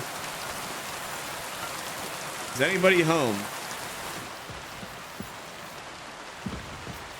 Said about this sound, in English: It is pouring rain